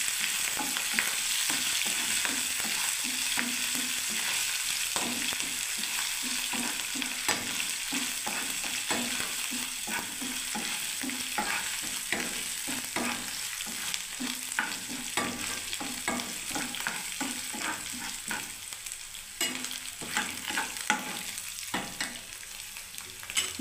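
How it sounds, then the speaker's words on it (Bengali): Toor dal, chana dal, peanuts and green chillies fry in hot oil with a steady sizzle while a spoon scrapes and stirs the pan in repeated rhythmic strokes, close and continuous, with no speech. "এবার ভালো করে ভেজে নেবো"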